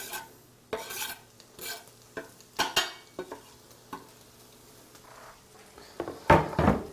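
Paleo pork fried rice with chopped parsley being stirred through in a pan, giving intermittent scraping and rasping strokes at close range, with a brief louder burst of sizzle and scraping near the end.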